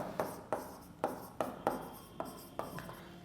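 A pen or marker writes an account entry on a board during an accounting lesson on partnership dissolution, giving a series of close, distinct tapping strokes at an uneven but steady pace, with no talking.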